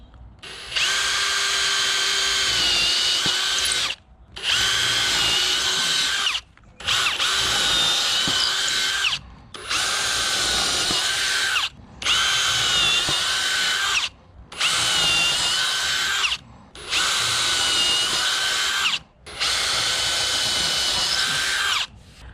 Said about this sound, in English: using a brad point bit. I like to use these because they have the nice point in the middle.